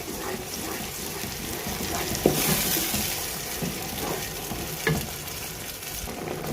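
Masala of tomatoes and spices fries and sizzles steadily in a pan, with a couple of sharp clinks of a utensil against the pan over the constant crackle.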